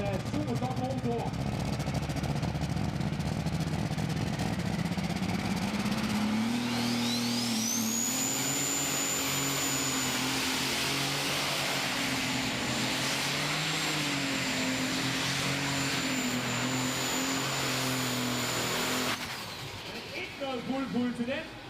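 A 2.5-tonne Light Modified pulling tractor with a six-cylinder inline Superstock engine roars loud and sustained, a rising whine climbing then holding steady for over ten seconds before cutting off, with a commentator talking over it.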